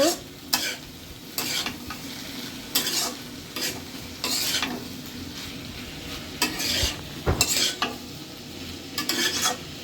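Mustard-based sorshori cooks in a pan, frying oil sizzling steadily while a spoon stirs in repeated scraping bursts, close and alone.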